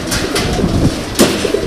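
Pigeons at a racing-pigeon club event coo softly against a busy room background, with a few brief low calls scattered through.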